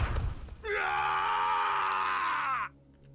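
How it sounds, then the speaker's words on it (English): A man's drawn-out scream in Steins;Gate 0, a sustained strained cry lasting about two seconds after a brief lower noise, then cutting off abruptly into near quiet. "One of the men who was trying to attack her from behind suddenly screamed."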